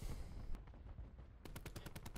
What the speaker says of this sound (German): Haben Sie diese verdammten Schüsse gesehen?